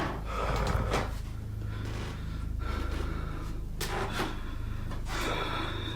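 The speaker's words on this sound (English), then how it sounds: "He's got the heavy breathing." Heavy, ragged breathing from a played video comes in repeated gasping inhales and exhales, fairly close and moderately loud, with no talk over it.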